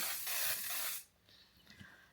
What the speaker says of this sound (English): You can spray some more texture spray in it to give it a bit more texture and a bit more hold.